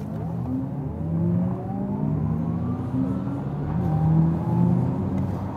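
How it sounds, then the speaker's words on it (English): An Audi e-tron GT electric car launches hard with launch control in dynamic mode, a steady rising electric motor whine climbing in pitch over several seconds under road and tyre rumble, fairly subdued, with no talking. "let's put this electric launch control and pull it to the real, real speed"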